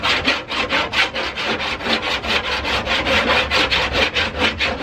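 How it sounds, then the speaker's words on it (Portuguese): Metal file worked back and forth across a car body panel during bodywork repair, a loud rhythmic rasping in steady strokes, about four per second, alone with no voices. "vou chamar a lima aqui"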